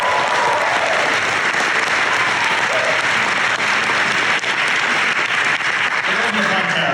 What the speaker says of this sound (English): It's some non-Asians clapping too.